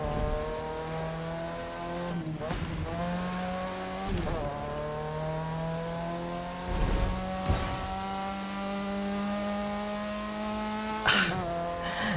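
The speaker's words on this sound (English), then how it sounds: "The car sounds in this game are nice and refreshing" A Nissan 300 ZX in the racing game The Crew 2 revs steadily with a smooth, tonal engine drone, broken by several sharp gear shifts or tire squeals that briefly jolt the pitch before it settles again.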